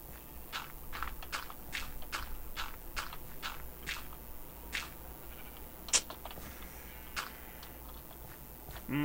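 Sheep in a Minecraft hardcore world, heard as a run of short, faint bleat-like and footstep-like blips at a steady irregular pace over a low background hum, with one sharper click near the middle.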